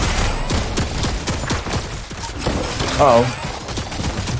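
Turret gunfire in the Fortnite video game rattles in fast, sharp bursts of shots that pound steadily throughout, while a player speaks briefly over it.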